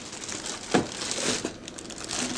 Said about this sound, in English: Looks like this plastic bag got a tape right underneath it, so you don't have to actually rip it.